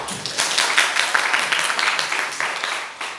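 A church congregation gives a short burst of thankful applause during a worship festival service, with lively, uneven clapping that swells quickly and eases off within a few seconds.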